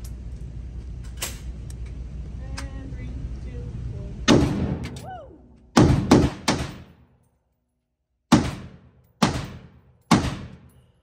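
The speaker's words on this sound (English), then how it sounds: "shooting my AR" AR rifle shots ring out outdoors, several sharp separate reports spaced a second or so apart, each with a short decaying tail, following a stretch of talk and background noise.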